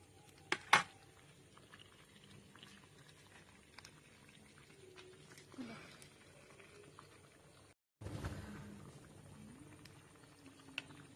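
A jackfruit rice mixture boils quietly in a pot, with soft continuous bubbling and a couple of sharp clicks near the start; no one speaks.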